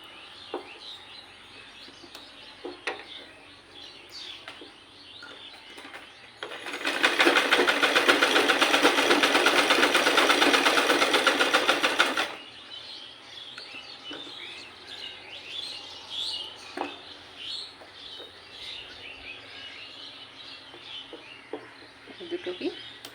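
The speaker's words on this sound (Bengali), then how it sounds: "দুটোকে একইভাবে সেলাই করে নেব।" A sewing machine runs steadily for about six seconds as it stitches together two fabric strips cut 1.5 inches wide, loud and continuous between quieter stretches where birds chirp in the background.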